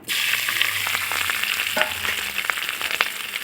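Freshwater snails hit hot oil in a wok and fry with a loud, steady sizzle that flares up right away and carries on throughout, with faint scrapes and stirs showing through the hiss.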